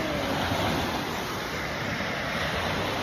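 Steady waves washing at Indiana Dunes beach on Lake Michigan on a morning, a continuous broadband surf roar with some wind noise, loud and close throughout with no voices.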